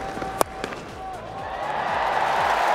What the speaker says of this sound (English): Hammered away for 4 by Yuvraj to take him to 3 figures.